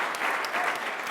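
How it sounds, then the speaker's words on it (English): Audience applause greets a guest being introduced at a Detroit WNBA event, a dense, steady wash of clapping across the whole short moment. "by the applause"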